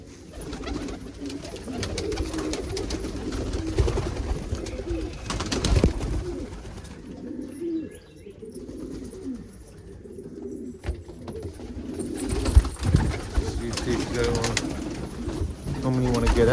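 Yellow crested saddle pigeons coo in a loft with repeated low, throaty calls and wing flutters. The loft is close and the birds are fairly loud, with a few scattered clicks and knocks and brief quiet stretches between calls.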